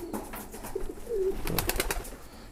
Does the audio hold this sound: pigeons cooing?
yes